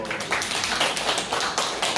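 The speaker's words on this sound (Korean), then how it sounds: "박수!" A small audience applauding in a free education centre room, dense, steady clapping from many hands, close and continuous without pause.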